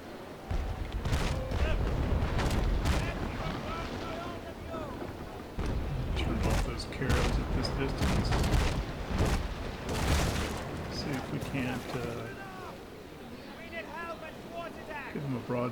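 Ship cannons firing broadsides in the naval combat game Naval Action, a series of booming blasts and rumbling impacts that roll on over ambient sea noise, while someone talks over the action.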